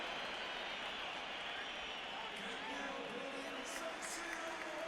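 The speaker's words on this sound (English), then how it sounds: "heard this round of applause for Jimenez" A stadium crowd at a Serie A match between Milan and Bologna applauds Jimenez, a steady, distant wash of clapping and crowd noise beneath a commentator's voice.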